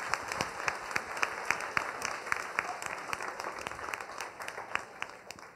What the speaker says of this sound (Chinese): 我们一起拍掌， 将荣耀归给神